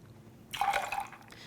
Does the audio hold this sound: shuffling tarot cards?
no